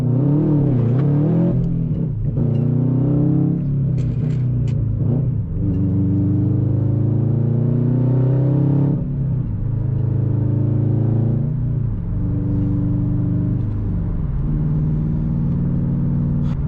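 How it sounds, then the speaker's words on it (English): A car engine runs loudly and close in a Minnesota winter, holding a steady rumble with several brief revs and dips in pitch, no voices over it. "This car idles so smooth, doesn't give me any issue."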